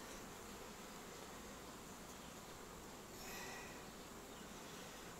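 Honey bees at an apiary swarm around a nucleus hive while they are shaken from brood frames, a constant soft buzzing drone that swells a little near the end.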